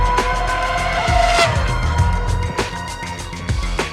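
Formula One cars race at the 2007 Australian Grand Prix in Melbourne, with loud engine roars, a high whine sweeping past, and repeated sharp bursts as cars pass close by.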